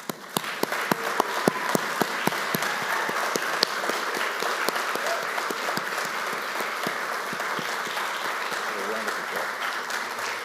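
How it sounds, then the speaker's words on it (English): An audience at a closing ceremony gives steady, sustained applause for the participants, many hands clapping together in a hall for about ten seconds. "big applause for the participants"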